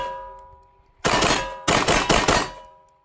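A pistol fitted with a Trijicon SRO sight fires Fiocchi 115-grain factory ammunition at targets including a rubber dummy: one loud sharp report, then a quick string of about four close, ringing shots, with quiet before.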